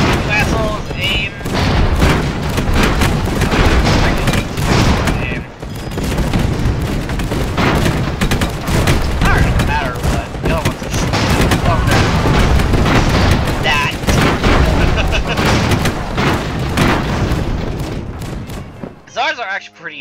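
Airship cannons firing in the modded game Airships: Conquer the Skies, a dense, loud barrage of booming shots and rolling explosions that continues almost without pause, with voices talking over the gunfire.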